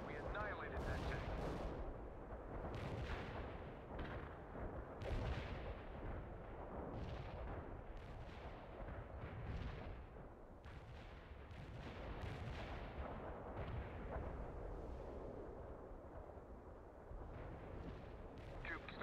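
Repeated heavy artillery blasts and explosions in a World in Conflict Soviet Assault battle, a dense, continuous barrage of booming impacts rolling one after another, loud and close throughout.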